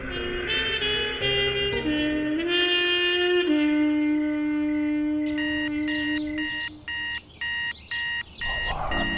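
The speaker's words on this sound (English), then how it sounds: "Oh, the alarm. I hate the alarm." An alarm clock rings with rapid repeating electronic beeps near the end, following a sustained musical tone; no talking.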